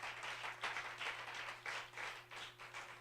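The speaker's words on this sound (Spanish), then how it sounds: "Dele el aplauso al Espíritu Santo." A church congregation applauds during a worship teaching session, a faint, distant patter of clapping that comes in rhythmic surges over a low steady hum.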